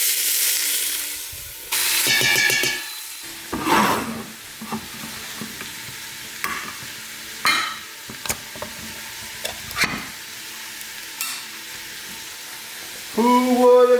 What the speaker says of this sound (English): Cooking up some pork chops.